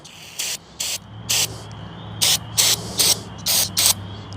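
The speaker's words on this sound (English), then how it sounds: "I'm gonna spray the carb cleaner spray directly in the jets." Short bursts of hissing spray from an aerosol can of carburetor cleaner aimed into the carb jets of a flooded Poulan Pro 300 Series engine, about eight quick squirts in an uneven rhythm, close up with a low hum underneath.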